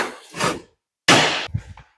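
A hammer strikes a tight-fitting part as it is tapped into place in a home shop, two loud, sharp impacts with a pause between them, followed by faint clattering.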